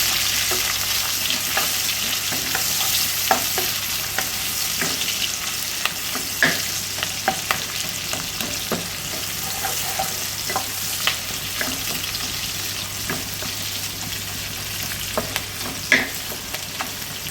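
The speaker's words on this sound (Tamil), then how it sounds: "ஒரு மனம் வந்தாலும் வெங்காயம் போட்டு நல்லா மிக்ஸ் பண்ணிடுங்க." Onions fry for a one-pot chicken dum biryani, a steady loud sizzle in a pot punctuated by frequent scraping stirs and occasional sharper clicks of the utensil.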